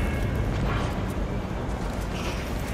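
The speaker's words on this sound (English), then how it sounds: "Is that a grenade?" A grenade blast in the video game Cyberpunk 2077, a dense, sustained roar of explosive noise filling the whole clip at steady loudness with no clear separate bangs.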